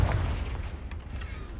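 Confringo fire spell blast in the Hogwarts Legacy video game: a heavy, rumbling explosive boom with crackling bursts, loud and continuous for the whole moment, no talking.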